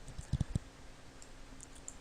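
Mouse clicks selecting and opening a message in p-Trek testing software, a quick cluster of three or four soft, close clicks followed by quiet room tone.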